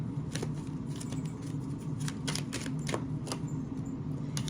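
A deck of tarot cards is shuffled by hand, giving soft irregular riffling clicks and snaps over several seconds against a low steady room hum.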